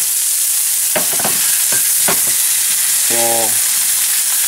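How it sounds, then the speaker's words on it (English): A cod fillet sears in a hot pan with steady loud sizzling and frying hiss throughout, broken by a few short clatters and a brief voice near the end. "Just leave it like that. Let him sear."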